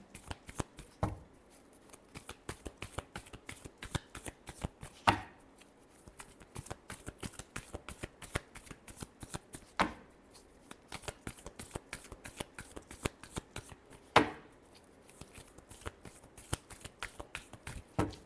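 Tarot cards being shuffled, with rapid crisp riffling flutters repeating in bursts about every five seconds, a sharper snap marking each cycle, close and fairly quiet without talk.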